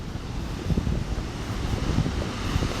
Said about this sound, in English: This is the largest waterfall in the state of Michigan.